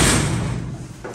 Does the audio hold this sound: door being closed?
yes